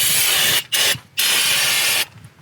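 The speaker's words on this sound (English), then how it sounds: "Just gonna give a quick cleanup. Some brake clean." Three loud hissing bursts of an aerosol brake cleaner can on a Honda Odyssey's front brake hub, the first two separated by brief pauses, the last long blast tapering off.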